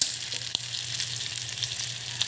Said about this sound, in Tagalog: At nagluluto din tayo ng pritong isda